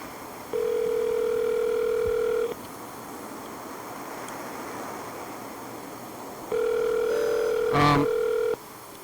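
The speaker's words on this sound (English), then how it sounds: "I know the phone just ring in this room" Outgoing telephone call ringback: two long steady tone bursts separated by a pause, with a brief cluster of dialing-like tones near the end, over faint background hiss.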